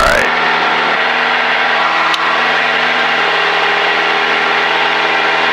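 Steady drone of a small airplane engine at climb throttle, loud and continuous inside the cockpit, with an even propeller hum that holds unchanged throughout.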